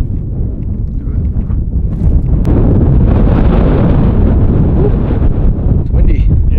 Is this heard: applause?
no